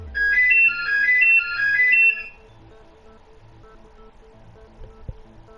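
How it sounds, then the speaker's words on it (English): A phone ringing in the Danganronpa video game, a bright repeating melodic ringtone that plays for about two seconds, then cuts off, leaving a quiet low hum with a faint click near the end. "Somebody's calling the phone."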